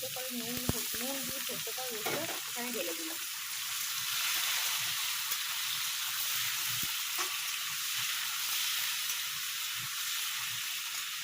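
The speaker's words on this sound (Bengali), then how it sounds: "এখানে যে পেঁয়াজটা রসুনটা দিয়েছিলাম বেশ লাল লাল করে ভাজা হয়ে গেছে" Onion and garlic frying in a pan, a steady hiss of sizzling oil running throughout, with a few brief scrapes and knocks near the start before the sizzle settles into a constant, moderately close background.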